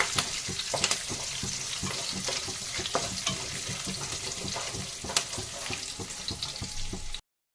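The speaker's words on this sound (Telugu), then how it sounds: "వీటిని దోరగా వేయించుకోవాలి" Chopped green chilli and a dried red chilli frying in a pan for upma, a close continuous sizzle with frequent spatters and stirring scrapes, no voices, ending abruptly.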